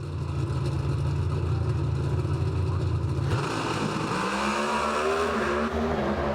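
Top Fuel dragsters roar through a final-round sprint at a Las Vegas drag race, a dense, loud engine drone that shifts midway into rising, wavering revs, heard from a distance with no talk.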